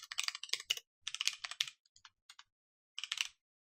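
Computer keyboard keys clacking in quick bursts while code is typed, close and fairly quiet, with a burst around three seconds after a short pause, and no talking.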